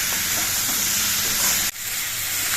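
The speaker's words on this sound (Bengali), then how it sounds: "সবজিগুলোকে আরও কিছুক্ষণ কষিয়ে নিতে হবে" Steady hissing sizzle of vegetables stir-frying for a shrimp dish in a hot pan, with scraping stirring noises throughout and a brief dip in the sound partway through.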